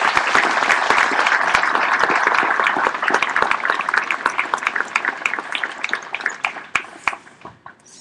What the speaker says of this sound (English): Please join me in a round of applause for these dedicated professionals.